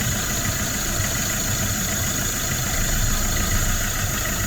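A Fiat 500L with a 1.3 Multijet diesel engine and a variable vane turbo fault idles roughly, giving a steady, close, continuous engine drone with a hiss above it and no speech.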